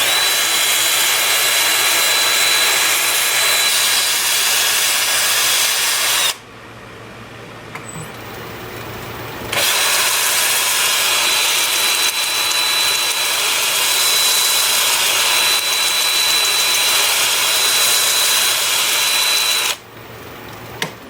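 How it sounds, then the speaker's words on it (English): Abrasive sanding of a tea tree wood turning on a lathe at about 400 RPM, a steady loud whirring rasp that runs long, cuts out briefly for the switch from forward to reverse, then continues before stopping near the end. "Then I'll spin it up forward and reverse at about 400 RPM, starting with 80 grit, working up through 400."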